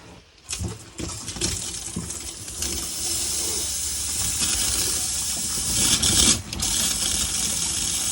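Steady rushing hiss of hot water pouring from a tap in a Chausson Welcome 610 motorhome, continuous and close, with a brief surge near the end.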